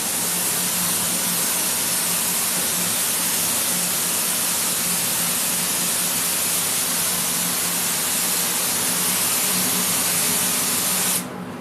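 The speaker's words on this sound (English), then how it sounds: "I'm going to spray some lacquer thinner through the gun to try and force any lacquer that's still in the gun out" A spray gun blasts lacquer thinner inside a spray booth to flush leftover lacquer out, producing a loud, steady hiss that holds for about eleven seconds before cutting off abruptly.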